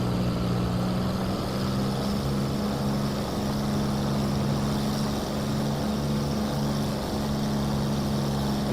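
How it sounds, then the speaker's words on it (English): Steady, loud drone of a Hawker Hurricane's piston engine and propeller during a spinning flight, a continuous deep hum with strong low harmonics that holds unbroken throughout. "take an aeroplane like this for a flight"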